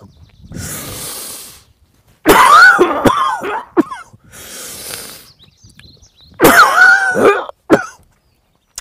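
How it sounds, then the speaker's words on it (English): Two bursts of deliberate, forceful coughing performed as a self-CPR demonstration, alternating with quieter breathing sounds; the coughs come close and loud in clusters, about four seconds apart, with no talk. "So alternate breathing and coughing, and keep doing that every 2 seconds"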